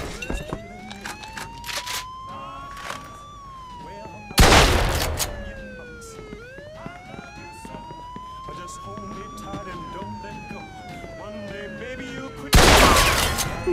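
Gunfire in the Mafia II Definitive Edition video game comes in two loud, sharp bursts of rapid shots over a wailing police siren that rises and falls throughout, with voices calling out in between.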